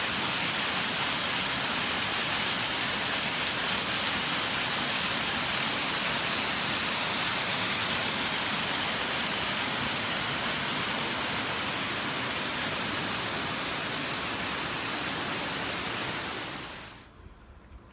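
Water rushes steadily over the Cascades on Vermont's Long Trail in the Green Mountains, a loud, continuous close roar that holds unbroken before cutting off abruptly near the end.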